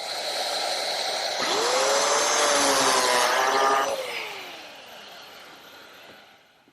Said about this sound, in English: I had to change the cutter in the plate joiner because I'm using these very small FF biscuits